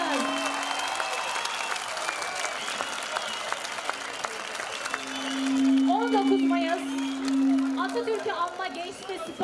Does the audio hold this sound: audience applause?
yes